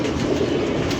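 Large captive pigeons in Punjab make a steady, dense flutter and rustle that stays close and even throughout, with no voices.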